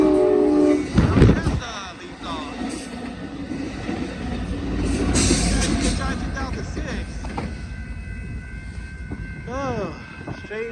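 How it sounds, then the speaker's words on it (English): Amtrak Capitol Corridor passenger train 732, led by a cab car, rolls past Bayfront Park in Pinole, California, with a loud horn blast early, a sustained rumble of wheels and cars, and repeated squealing near the end, with some talk mixed in. "here comes Amtrak Capital Corridor train 732"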